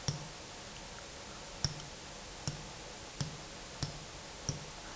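Graphing calculator keys are pressed one at a time in a quiet room, six sharp, faint plastic clicks spaced about a second apart.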